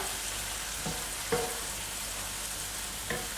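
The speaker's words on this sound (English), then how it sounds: "just keep on stirring that around until it gets nice and thick" Meat pie filling thickened with flour being stirred in a pan gives a soft, steady sizzle with a few faint scraping knocks of a utensil, low and even throughout.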